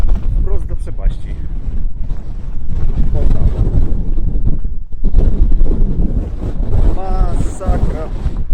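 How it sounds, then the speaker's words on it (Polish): Strong wind roars and buffets loudly across an exposed cliff edge above a sheer drop on the Donegal coast, gusting continuously with a brief lull partway through, with a voice talking intermittently over the gusts. "Ale tutaj wieje. Jak się jest nieostrożnym, może zwiać wprost do przepaści."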